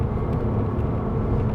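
A Ferrari 458 on a race track gives a steady, loud, low engine drone that runs without a break through the moment.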